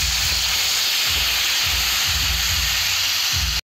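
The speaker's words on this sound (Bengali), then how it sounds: "অল্প করে জল দেব।" Water is poured into a pan of frying vegetables, including red beetroot, for a vegetable chop. A loud, steady steam hiss fills the whole stretch, with soft rhythmic thumps repeating underneath before it cuts off abruptly.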